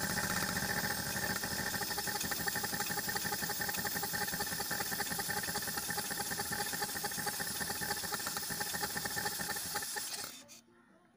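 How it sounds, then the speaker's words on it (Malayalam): A carbureted Maruti 800 car engine idles at low rpm with a steady, close hum for about ten seconds, then stalls and falls quiet. "കണ്ടില്ലേ, ഇതുപോലെ വാഹനം ഓഫായി പോകും ആർ പി എം കുറഞ്ഞാലും."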